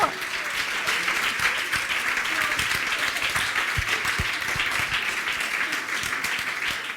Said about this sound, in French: Est-ce qu'on peut acclamer Jésus un peu?